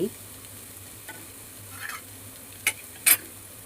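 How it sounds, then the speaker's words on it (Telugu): Eggs frying in oil in a pan while being stirred for an egg fry, a faint steady sizzle broken by a few soft scrapes and clinks from the stirring. "ఎర్రగా ఎర్రగా వేయించుకుంటేనే బాగుంటుందండి గుడ్లు ఫ్రై"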